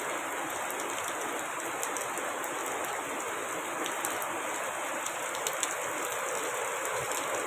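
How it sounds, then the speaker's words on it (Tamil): Heavy rain pours down in a downpour at Bhavani, a dense continuous hiss of water steady and close throughout, with no voices. "மழையோட சவுண்டே எவ்வளோ அதிகமாக கேட்குது"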